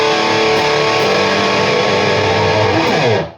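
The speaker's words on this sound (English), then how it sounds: "let's play some more stuff with the metal muff." An electric guitar plays fast, dense riffing through a Metal Muff high-gain distortion pedal, loud and heavily saturated throughout before stopping at the end.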